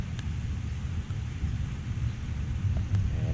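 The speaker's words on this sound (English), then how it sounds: "it's raining right now" Steady rain falls outdoors as a dense, continuous hiss with low rumbling underneath, broken by a few faint clicks and taps.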